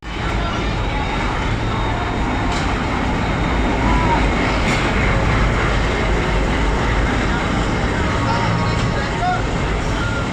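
Steady, loud rumble of the Poorva Express running from Howrah to New Delhi, heard from inside a coach with continuous broadband wheel and carriage noise throughout and no distinct breaks.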